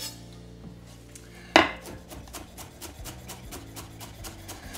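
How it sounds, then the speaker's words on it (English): A knife chops a half bunch of fresh cilantro on a board: one sharp, loud strike, then a quick run of light, even taps close by, with no talking. "I have half a bunch of cilantro that we're going to chop up real quick"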